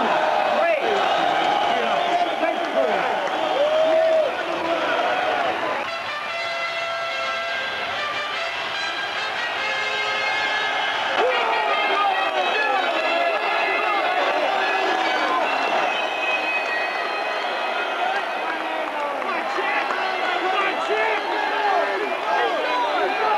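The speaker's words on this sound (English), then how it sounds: "Tremendous reception for Honeyghan, the challenger." Noisy crowd of about 8,000 at Wembley Arena roaring and cheering for a boxer entering the ring, a continuous dense din under a commentator's voice.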